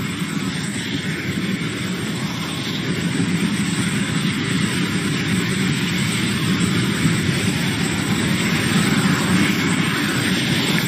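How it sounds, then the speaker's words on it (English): A SpaceX rocket's first-stage engines roar in a steady, dense rumble during ascent, loud and unbroken throughout with no distinct changes. "This first stage burn will last for about another minute and 10 seconds."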